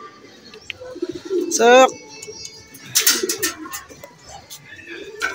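Pigeons coo close by with rolling, throaty notes and a few sharper calls, while a person speaks briefly over them.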